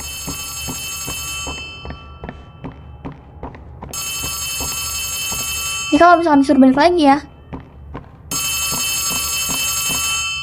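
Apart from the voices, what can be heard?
telephone ringing in the video game Poppy Playtime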